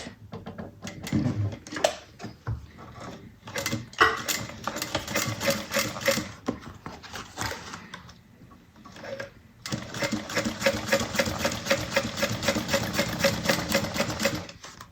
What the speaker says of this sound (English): So now I'm just going to top stitch along this folded area.